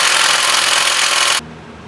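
A power tool whirs loudly and steadily for about a second and a half, then cuts off, while removing bolts from the bumper of an old OBS dually farm truck.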